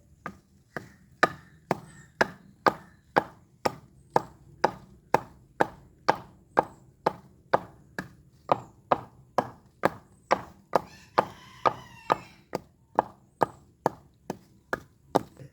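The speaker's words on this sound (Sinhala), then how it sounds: "යාළුවනේ දැන් අපි මේක කොටා ගමු." Ceylon olives (veralu) pounded for pickle produce a steady series of about thirty sharp, close thuds at an even rhythm, roughly two per second, with no talk.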